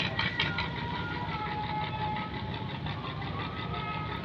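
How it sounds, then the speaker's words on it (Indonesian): A boat engine at dusk slowly approaching, a steady mid-pitched motor drone with a faint knocking pulse that holds fairly constant throughout, with no talk over it. "Dia pelan-pelan mendekat. Suara mesinnya."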